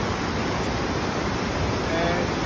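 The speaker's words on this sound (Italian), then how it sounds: "sta piovendo ancora, questa è la situazione del fiume Vidente" The Vidente river in Emilia-Romagna, Italy runs swollen after a night of heavy rain while rain still falls, a loud, continuous broadband rush of water with no break.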